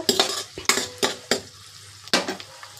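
Chicken frying with ginger garlic paste in a pan while a metal spoon stirs it, giving several sharp clanks and scrapes in an uneven rhythm over a soft sizzle. The sound is close and loud, with no talking.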